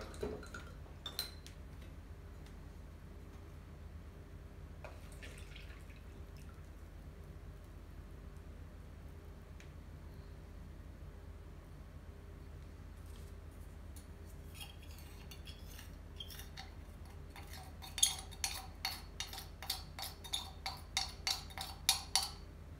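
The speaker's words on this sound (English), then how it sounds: "I'll just stir this stuff up and pour it through the filter." Zinc mixture stirred in a glass container and poured through a filter, giving soft stirring and a quiet background at first, then a run of sharp, evenly spaced clinks of utensil on glass toward the end.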